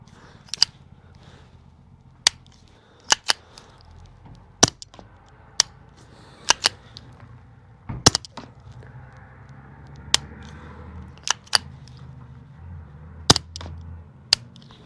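Suppressed firearm shots fired with subsonic ammunition at an outdoor range, a dozen sharp muffled cracks at irregular intervals, fairly quiet and spaced one to two seconds apart over low background noise.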